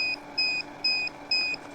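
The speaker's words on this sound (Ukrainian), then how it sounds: "Пищить зумер." A buzzer on a Rupez RCS-40Li 40-volt cordless chainsaw that will not start beeps four times in a steady on-off rhythm, each beep a clear, moderately loud electronic tone of about a quarter second.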